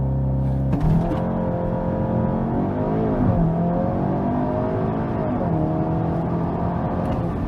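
Cupra Ateca Limited Edition, an all-wheel-drive SUV, launching hard under launch control: a sudden loud engine surge, then rising revs broken by quick gear changes as it pulls strongly, heard up close with no talking.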